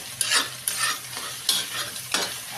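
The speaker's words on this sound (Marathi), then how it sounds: "थोडीशी हळद टाकू आणि छान आता परत एकदा एकाच मिनिट हलवून घेऊ" Egg bhurji seasoned with turmeric is stirred in a pan, four distinct scraping strokes rising over a steady low sizzle, close and alone with no voices.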